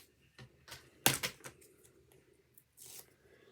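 Double-sided 3D foam tape being cut for a scrapbook album, a few crisp snipping and tearing sounds, with one sharp louder cut in the middle and quieter rustles around it, close up in a quiet room.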